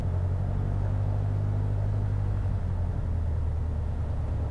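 A Piper Arrow light aircraft engine idles steadily while taxiing for departure, a low continuous droning hum heard from inside the cabin, ending with a brief sharp bump.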